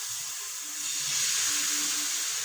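Soft, steady hiss of batter frying in hot oil, a gentle sizzle that swells slightly midway, with no talking.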